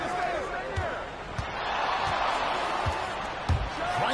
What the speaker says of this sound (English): Driving the lane, and Ball slams it in.